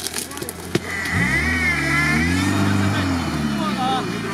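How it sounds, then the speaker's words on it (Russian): An off-road car, apparently a Suzuki Samurai or Niva at an off-road event, drives past with its engine rising and revving as it nears, loud and close, while people talk over it. "Машина едет."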